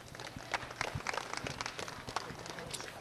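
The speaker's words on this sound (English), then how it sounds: "Let's give him a big round of applause." Applause from the crowd at a pit stop challenge championship, a quiet, scattered patter of clapping under background noise over a few seconds.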